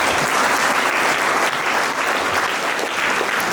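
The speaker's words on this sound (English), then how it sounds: "Please give him a warm round of applause as he takes the stage." Warm, steady applause at a school assembly as the principal takes the stage, many hands clapping densely and loudly without a break.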